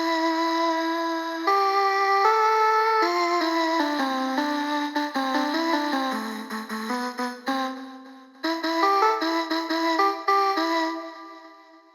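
A robotic vocoder-like synth voice from Ableton Live's VoiceBox sings a sliding melodic line over a steady techno backing, bright and continuous with brief dips.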